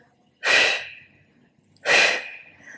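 Two forceful exhales during a yoga ab exercise, each a sharp, breathy whoosh close to the microphone, separated by a short pause, with no talking.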